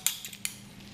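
An ordinary metal spoon taps and scrapes against a cup while breaking the crust of coffee grounds during cupping, giving three or four light, close clinks spaced irregularly within a second.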